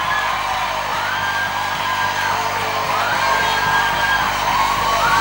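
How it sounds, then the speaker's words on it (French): Someone shouts cries of joy after being hired at the Autonomous Port of Cotonou, with loud, sustained whooping and yelling that runs throughout over a dense, noisy background. "Est-ce que tu peux pousser des cris de joie?"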